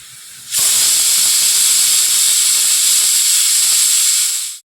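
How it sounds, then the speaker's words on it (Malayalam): A pressure cooker holding egg curry lets out one loud, sustained steam whistle at close range, starting abruptly after a quiet moment and hissing steadily for about four seconds before cutting off. "നമ്മുടെ പുട്ടിനുള്ള മുട്ടക്കറിയാണ് ഇത് ഈ കുക്കറിൽ വിസിലടിച്ചുകൊണ്ടിരിക്കുന്നത്"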